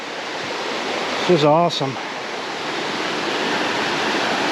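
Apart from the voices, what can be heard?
mountain creek flowing, Smokies trail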